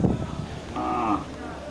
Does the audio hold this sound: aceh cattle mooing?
yes